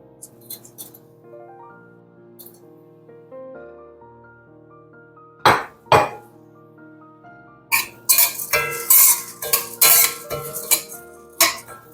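Spoon scraping and stirring rice in a metal pan on a home stove, clinking metallic strokes in scattered bursts with quieter stretches between, close and fairly loud toward the end.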